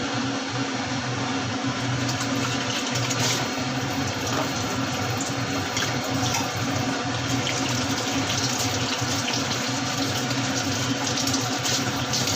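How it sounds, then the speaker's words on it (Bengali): Potato and squash curry simmering covered in water in a pot, giving a steady, loud bubbling rush with no pauses throughout, close by and alone. "জল দিয়ে ঢাকনা দিয়ে কিছুক্ষণ এটাকে ফুটতে দেবো।"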